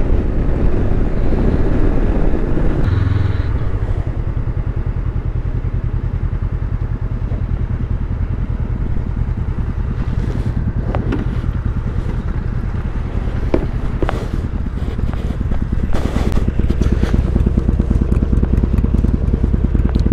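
A motorcycle ridden along the Cherohala Skyway in Tennessee gives a constant loud engine drone mixed with heavy wind rush at the microphone, with a brief shift near the start and scattered short knocks later on.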